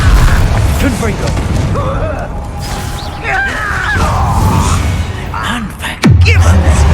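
A Confringo fire spell in Hogwarts Legacy bursts in a loud explosive boom near the end, over a busy game soundscape with a spoken voice and earlier combat sounds.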